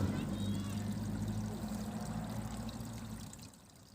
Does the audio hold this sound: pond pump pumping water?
yes